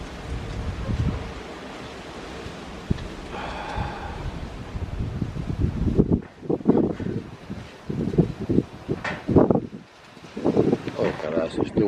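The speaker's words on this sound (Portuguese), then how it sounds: "the wind was pushing west, but now it's pushing north" Gusty wind roars across a microphone during nearby wildfires at night, a broad steady rush that swells and buffets, with people talking over it in the second half.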